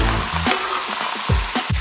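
Poultry strips sizzling loudly in a wok, a dense close hiss of frying with a few stirring knocks, no speech.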